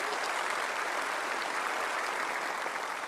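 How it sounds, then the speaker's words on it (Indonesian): Audience applauding at an Indonesian ceremony honouring the president-elect, a steady wash of clapping held at an even level for the whole stretch, with no voices standing out. "Tepuk tangan, guys."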